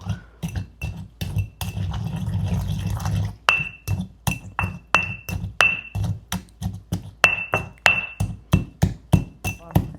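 Pounding soaked dried pomegranate seeds for a village-style anardana chutney, a steady series of sharp, close knocks and clinks from a pestle striking a hard mortar, at about two per second, with a rougher grinding stretch early on.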